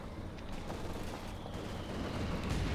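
Machine gun fire from light machine guns held by Grenadier infantry in a Company of Heroes 2 battle, a continuous crackling stream of bursts amid other battle noise, steady and fairly loud throughout.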